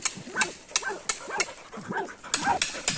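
Hunting dogs bark in a series of sharp, spaced yelps at a paca holed up in its burrow, the barks close and loud against a thin background.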